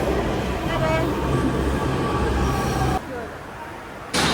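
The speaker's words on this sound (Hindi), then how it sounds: "मेट्रो आ रही है" Low rumbling of a Delhi Metro train rolling into a station, steady and loud, with faint background chatter, then an abrupt drop before the noise returns.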